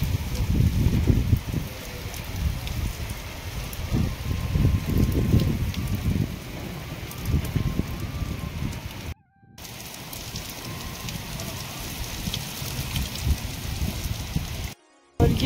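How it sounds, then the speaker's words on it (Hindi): Heavy rain pours down in a continuous loud hiss and patter, surging and easing slightly, with two abrupt short dropouts in the recording. "इतनी तेज बारिश है, सच में इतनी जोर जोर से आवाज़ें हो रही है।"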